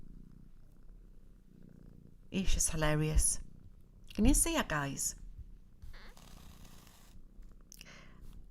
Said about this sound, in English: we've got little Zizi here, giving her purrs